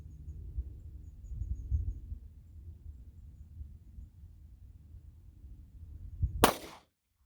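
One sharp 9mm pistol gunshot firing a Winchester Ranger T-series 147 grain round, a loud crack near the end after several seconds of low rumbling background, followed by silence.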